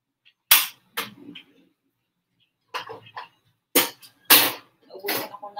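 Igniter of a butane camping stove that is running out of gas snaps several times, sharp, separate clicks spaced irregularly over a few seconds, with short gaps of near silence between.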